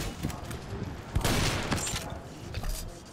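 Gunfire in the World War Heroes video game, a dense fusillade of rapid shots from several weapons at moderate distance, building into a loud sustained burst in the middle of the short stretch.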